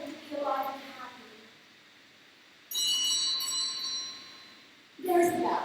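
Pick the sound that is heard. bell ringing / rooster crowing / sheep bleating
bell ringing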